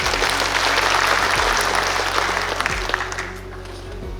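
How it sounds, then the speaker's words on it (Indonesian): Large crowd applauding in a big hall at an official inauguration ceremony, a broad, sustained roar of clapping that holds steady, then fades slightly toward the end. "Tepuk tangan untuk semua."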